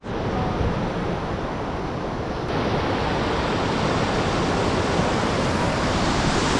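A powerful waterfall in the far north of Sweden roars in a steady, broadband rush, loud and close, continuous throughout without voices.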